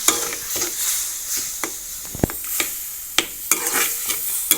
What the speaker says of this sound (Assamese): এয়া অলপ অলপকৈ পানী ঢালি আছোঁ, আৰু এয়া লৰাই আছোঁ